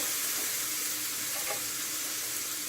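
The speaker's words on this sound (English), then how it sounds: "I'm going to saute it in here" Food sautéing in a pan for a soul food holiday dinner, giving an even, close frying hiss with a brief stir-scrape midway, no voices.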